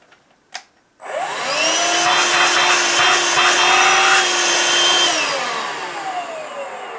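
A Vax Air Cordless Duo handheld vacuum cleaner clicks on after a brief tap and runs at a loud, steady whine with a rough suction roar, easing slightly in pitch toward the end.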